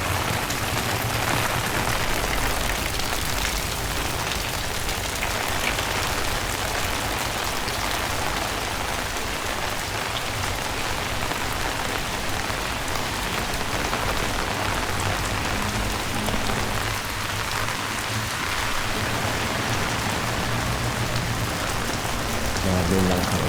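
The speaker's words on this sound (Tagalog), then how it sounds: "Grabe lang ang ulan." Heavy rain pours steadily onto surfaces in Golden City, a dense, loud, unbroken hiss and patter lasting throughout with no voices.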